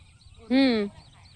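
A single loud, close goose honk lasting about half a second, rising out of quiet background noise beside a village pond where fish are being caught.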